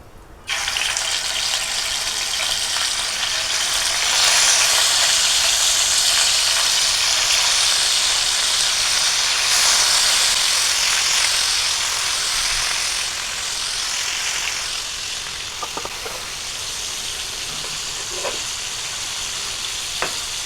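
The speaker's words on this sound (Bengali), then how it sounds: "আমি এখন এগুলো ভেজে নিব।" Large pieces of a 3 kg bighead carp frying in oil, a loud continuous hissing sizzle that starts abruptly, holds strong, then eases slightly, with a few small pops near the end.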